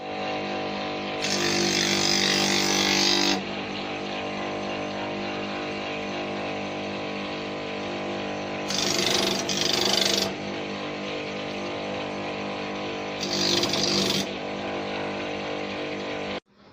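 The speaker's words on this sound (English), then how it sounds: "Let me go and smoothen this place in the roughing machine" Roughing machine smoothing the edge of a handmade Ankara gladiator sandal, a steady motor hum with three louder bursts of grinding where the sole is pressed to the wheel, then a sudden stop.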